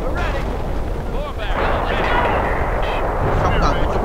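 Artillery battery firing in the World War II strategy game Company of Heroes, heavy booming shots and rumbling impacts stacked over one another at close range, with someone talking over the battle.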